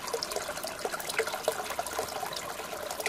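Water trickles and splashes from a mountain spring, a soft continuous babbling flow with small droplet plinks, fairly quiet and alone.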